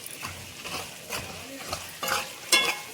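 Ginger-garlic paste and chili being stirred in a pan for chicken pickle: soft scraping strokes over a gentle sizzle, repeated every half second or so, ending with a sharper metallic clink; a voice is faintly heard.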